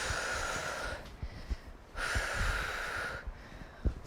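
Slow, audible breaths in and out during a seniors' cardio workout, two long airy exhalations with quieter gaps and small snorting catches, faint and close.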